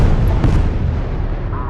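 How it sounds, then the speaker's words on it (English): Demolition charges go off in Homeworld: Deserts of Kharak, a loud booming blast with a long rumbling decay that fades over about two seconds. "Pull back to a safe distance and initiate detonation."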